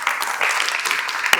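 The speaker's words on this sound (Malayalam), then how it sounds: "ക്ലാപ്പ്." A beginner dance class claps together indoors in a brisk, dense burst of hand claps that runs steadily throughout, fairly close, with one sharp clap standing out near the end.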